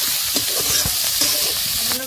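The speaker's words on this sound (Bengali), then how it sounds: "আলু পেঁয়াজগুলো ভালো হয়ে গেছে, এখানে বন্ধুরা একটু হালকা করে নেড়ে নেবো।" Potatoes and onions frying in a pan are stirred gently, giving a steady close sizzle broken by several soft scraping strokes of the spatula, with no talking.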